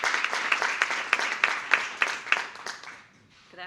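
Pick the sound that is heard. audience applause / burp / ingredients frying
audience applause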